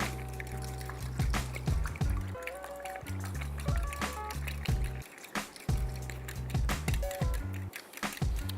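Eggs are beaten with a whisk in a small bowl, a quick stream of close, clicking and tapping strokes with some liquid sloshing, steady throughout.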